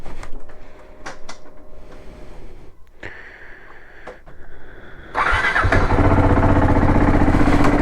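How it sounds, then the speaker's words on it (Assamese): A KTM RC 390 motorcycle that has sat unused for two days is started after some faint clicks and handling sounds. Its engine catches and settles into a loud, steady, close idle. "দুদিন হ'ল গাড়ী ষ্টাৰ্টে মাৰা নাই"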